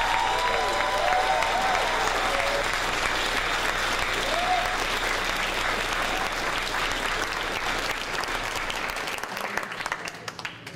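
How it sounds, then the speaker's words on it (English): Audience applause at a furry convention's closing ceremony: a large indoor crowd claps in a steady, dense ovation for about ten seconds before it thins out and fades. "please give her and her team a round of applause for her wonderful work"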